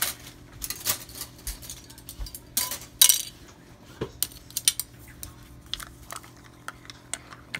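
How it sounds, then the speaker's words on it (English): A spoon stirs slimming coffee in a cup, clinking and scraping against the sides in quick irregular bursts, close and fairly loud with no talking. "Stir it up."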